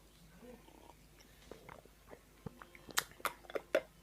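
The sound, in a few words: sipping a cup of tea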